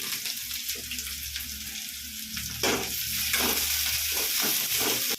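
Crushed garlic drops into hot oil with popped mustard seeds and onion in a home kitchen pan, sizzling steadily with a louder burst of frying partway through as it is stirred.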